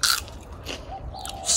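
Crisp bites into fresh fruit picked straight from the tree in an Australian garden in August, a couple of close crunchy bites and chewing with brief gaps, no talking.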